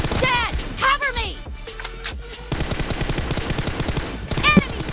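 Rapid bursts of automatic gunfire crackle in a mobile battle royale game, with a sustained volley in the middle, mixed with voices talking and game effects.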